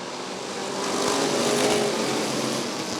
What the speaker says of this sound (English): Here they come. Great flag and we're racing.